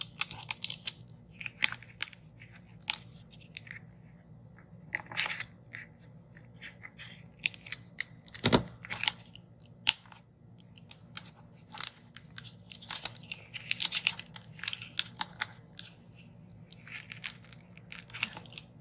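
Scissors snip through sticker paper in a run of short, crisp cuts with small pauses between them, close up and fairly quiet, with no talking.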